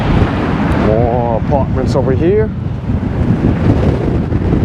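Strong wind buffets the microphone on a residential street in Briarwood, Queens, New York City, a loud constant rumble heard throughout while someone speaks briefly over it.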